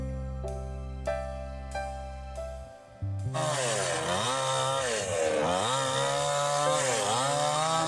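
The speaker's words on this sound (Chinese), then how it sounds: "先把测量的木板多余的部分分切掉" A power saw cuts excess off wooden boards outdoors in the wilderness, starting after a few seconds of sustained tones, then roaring loud and close with its pitch rising and falling as it bites through the wood.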